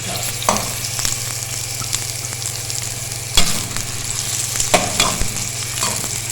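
Two finely chopped onions fry in a cup of oil in a deep pot for chicken biryani, producing a steady, close crackling sizzle punctuated by a few sharp utensil knocks and stirring scrapes, with a faint low hum and no speech.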